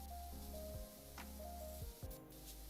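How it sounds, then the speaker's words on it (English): A spray nozzle in a video game cleaning an alien surface, a soft hiss playing over a looping low electronic hum, with a few brief squishy accents. "I'm just spraying the damn thing."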